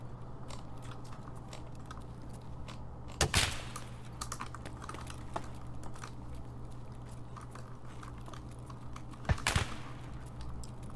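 Two sharp gunshots in Escape from Tarkov, one near three seconds in and another near nine and a half, each a brief loud crack standing out from a steady low hum and scattered faint clicks, with no one speaking.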